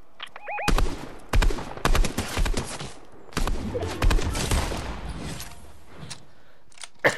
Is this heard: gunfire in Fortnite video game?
yes